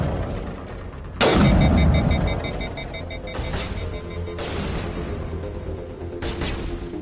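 Gunfire in the sci-fi shooter Mass Effect 1: a loud blast near the start with several further shots spaced through the clip, set over a steady game-ambience bed.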